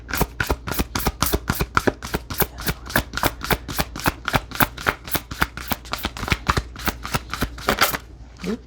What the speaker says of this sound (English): I'm going to go ahead and take a card from the Shaman's Dream Oracle